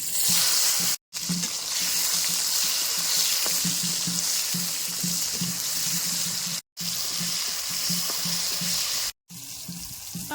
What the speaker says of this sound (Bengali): টমেটোটা ভালো মতোই ভাজা হয়ে গেছে